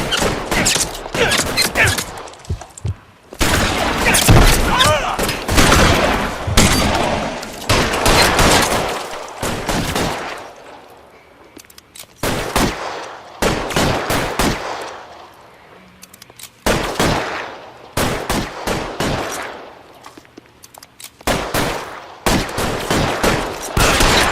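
Bursts of video game gunfire from L.A. Noire come in rapid volleys and fusillades, loud and close, separated by short quiet gaps across a long firefight.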